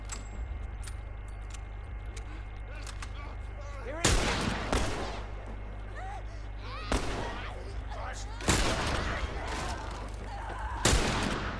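Rifle fire against zombies in The Last of Us, with four loud single shots spaced a few seconds apart over a steady low rumble of background noise.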